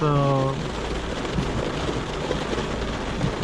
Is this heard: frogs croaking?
no